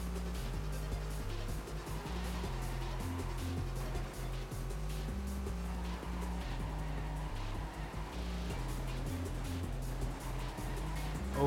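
A car roars along in the Destruction Derby racing game, a loud continuous engine drone shifting pitch with gear changes, accompanied by tire squeals and scraping collision noises.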